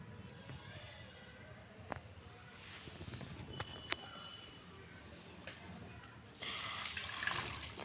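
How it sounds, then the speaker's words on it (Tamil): Tap water runs and splashes over half a kilo of raw chicken being rinsed in a kitchen sink for chilli chicken 65, with irregular drips and clatter, then a steadier, louder gush near the end. "எப்பவுமே கடையிலேருந்து வாங்கிட்டு வந்த உடனே தண்ணியை ஊற்றி நல்லா க்ளீன் பண்ணிக்கணும்"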